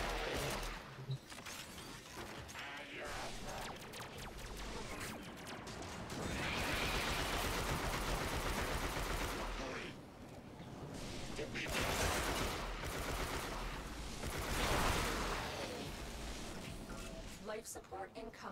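Rapid gunfire from a favourite weapon in the video game Warframe, dense and continuous bursts over busy game effects and music, with a voice talking throughout.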